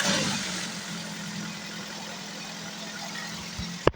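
A car engine idles on a service lift with a low, steady hum, a slightly louder start settling into an even drone, ending with a short thump.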